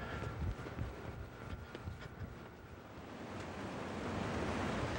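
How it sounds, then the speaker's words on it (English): Wind gusts and rolling surf on a rough, blustery beach with blowing sand, a steady close roar of broadband noise that slowly swells without a break. "it's a little bit rough out there on the beach today. And so we're battling the wind and the sand in our eyes"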